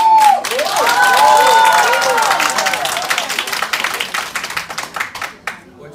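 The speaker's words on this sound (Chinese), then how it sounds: "让我们用热烈的掌声欢迎我们的双钻总裁蒋老师" Audience applause and cheering welcoming a double-diamond company president at a corporate gathering: a loud burst of clapping swells at once and holds steady, then thins into scattered claps as it fades out.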